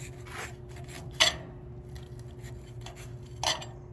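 A knife slicing through a grilled burger patty cooked from frozen, giving soft scraping strokes and two brief metallic clinks against a plate, quiet and close over a faint hum.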